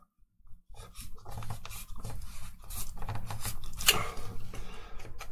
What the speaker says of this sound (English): I think I will have to cut out